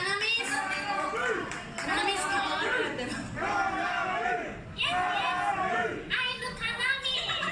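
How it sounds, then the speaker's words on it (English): A concert crowd on a band's 2022 US tour calls out the guitarist's name; loud massed voices rise in repeated surging waves with cheering in between. "the crowd was calling her name"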